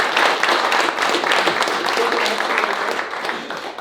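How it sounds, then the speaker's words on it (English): Applause from the audience at a pre-season press conference for the GDR, a steady broadband wash of many hands clapping that holds for several seconds and tapers off slightly at the end. "Round of applause for Ryder"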